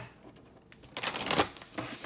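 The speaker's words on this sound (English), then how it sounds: "just shuffling these cards real quick" A quick riffle of tarot cards being shuffled, a short burst of crisp fluttering slaps, close to the microphone, with no talking.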